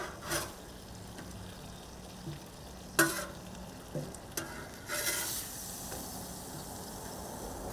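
Flour tortillas toast quietly in a hot pan for smoked tri-tip tacos, a soft steady sizzle and hiss with a few faint clicks and scrapes scattered throughout.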